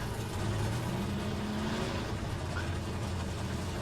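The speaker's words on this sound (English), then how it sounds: "we've got to deal with that really loud engine noise again." A loud, constant late-model race car engine drone in the rFactor 2 racing game, with a low rumble and a whining pitch that rises slightly, like idling or cruising.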